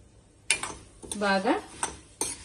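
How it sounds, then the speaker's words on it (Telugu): Sesame seeds dry-roasting in a pan for potlakaya nuvvula podi, stirred with a metal utensil: a few sharp scrapes and clinks against the pan, with one brief squeaky sliding stroke in the middle. "నువ్వులు కూడా వేసి మంచిగా వేయించుకోవాలి"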